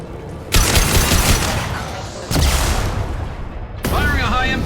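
A high-impact gunshot in Mass Effect 2: three loud, abrupt blasts a second or two apart, each trailing into a hissing, rumbling decay, with the last followed by a ringing, whining tail.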